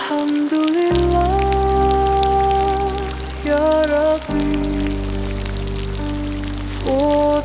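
Steady rain hisses evenly as a soft, constant wash beneath a man's sustained, melodic devotional chanting that dominates throughout.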